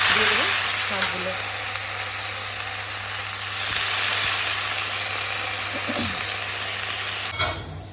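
Leafy greens frying in a pan of hot oil in a home kitchen give a loud, steady sizzle up close, with occasional soft clinks and stirring scrapes.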